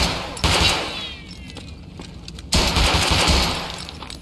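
Gunfire in the video game Escape From Tarkov: two loud, close bursts of rapid shots, one near the start and one about two seconds later, each trailing off into a rumbling echo.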